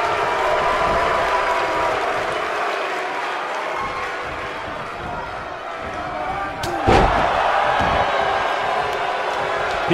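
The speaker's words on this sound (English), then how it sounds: "by the sound of this crowd, I think they're getting what they wanted" A loud pro wrestling crowd cheers and applauds steadily throughout, with a sharp slam or thud partway through rising above the roar.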